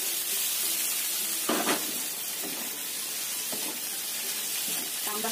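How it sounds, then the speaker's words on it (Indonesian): Garlic and previously fried eggplant sizzling in a hot pan, a loud continuous hiss with occasional stirring scrapes, close by. "Setelah bawang putihnya tercium enak"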